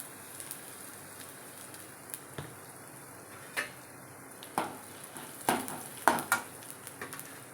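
Urad dal and asafoetida powder sizzling in hot oil for a rice upma, a steady crackling fry with scattered pops and a few louder stirring clatters.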